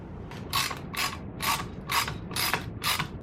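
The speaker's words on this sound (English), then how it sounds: "we're going to tighten down all of our flange bolts and pull our headers in place" A ratchet tightens the exhaust flange bolts on a Kawasaki Ninja 650 motorcycle, pulling the headers in place over copper gaskets. Six evenly spaced bursts of close, crisp clicking sound alone, with no talk.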